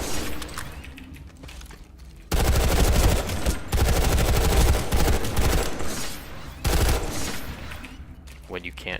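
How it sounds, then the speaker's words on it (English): Full-auto fire from a TR assault rifle in a shooter video game comes in three long sustained bursts of rapid, loud shots separated by brief pauses. "You can full auto burst people out to a decent distance with this"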